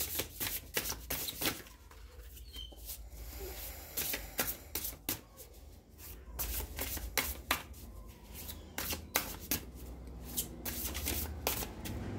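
A deck of cards is shuffled and drawn by hand, giving rapid, crisp riffling and slapping clicks in irregular clusters, close and fairly quiet, with no voice over it.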